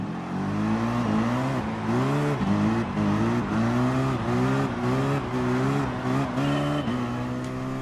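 Race car engines rev hard at the green-flag start of a pack race in a racing video game, several engines rising and falling in pitch together in steady, loud, overlapping sweeps.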